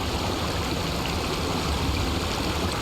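River water rushing steadily as a truck fords the river at sunset in SnowRunner, a dense, constant flowing wash with no pauses and no voices.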